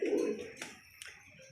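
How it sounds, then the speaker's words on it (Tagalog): Soft cooing of racing pigeons arriving at their loft close by, followed by a couple of brief flutters and light knocks in a quiet space. "Nandiyan na, dalawa na ibon natin."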